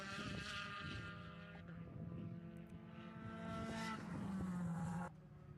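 Race cars in a Cal Club SCCA club race lap a 2.6-mile road circuit near the finish, engines droning loudly with rising and falling pitch as they pass, a steady roar that drops off abruptly at the end.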